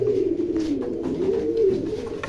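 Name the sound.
Indian Jaldar pigeon cooing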